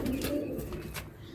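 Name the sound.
Madrasi pigeon cooing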